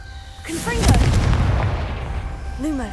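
The Confringo explosive spell in the Hogwarts Legacy video game lands as a loud booming blast with a long rumbling tail over about two seconds, while a voice calls out and game effects whistle around it.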